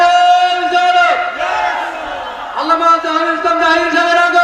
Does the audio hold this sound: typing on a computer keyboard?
no